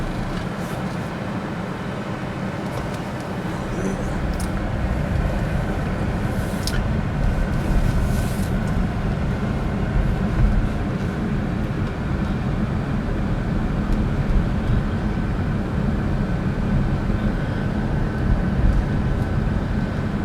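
Steady broadband road and engine rumble from inside a car driving along, with a constant low roar and a few faint clicks and knocks, and no talking.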